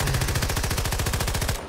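Rapid automatic gunfire from the player's weapon in Battlefield, a loud, close, steady burst of evenly spaced shots running about a second and a half before cutting off.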